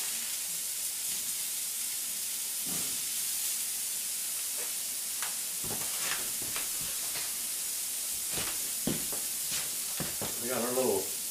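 Frozen seasoned hamburger patties sizzling over the open holes of a wood-burning cook stove, a steady bright hiss of frying with occasional pops and scrapes, and a voice talking briefly near the end.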